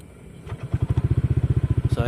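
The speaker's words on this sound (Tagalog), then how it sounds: "Start natin yung motor." A motorcycle engine cranks and fires up, settling into a fast, even thumping idle close to the microphone.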